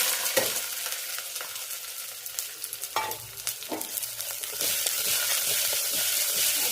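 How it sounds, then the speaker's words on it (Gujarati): Loud, close sizzling of hot oil as mustard seeds, cumin and potato are tempered for khichdi, with scattered crackles and stirring scrapes, swelling to a stronger hiss near the end, with no speech. "ખીચડીનો વઘાર થઈ જશે"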